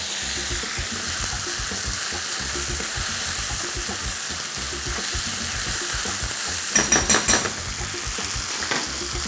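Tomato paste sizzles steadily in a hot pan while being stirred, a continuous broadband fry with soft scraping, and a brief cluster of sharper utensil clinks near the end, for hayashi rice.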